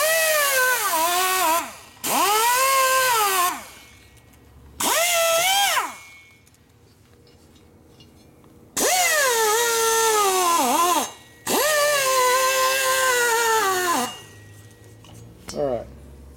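Power tool chamfering a port hole in a 2017 Harley-Davidson FXDLS 110ci Twin Cam cylinder head, loud whining bursts that rev up and wind down in five or six separate runs with quiet gaps between.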